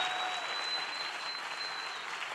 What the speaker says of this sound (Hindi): can we have a big hand for the pastors and group supervisors, please?